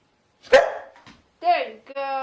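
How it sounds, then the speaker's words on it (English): A pet dog barks on command indoors, two or three sharp close barks with short yelps between, loud and alone in short bursts. "Bark the whole house down."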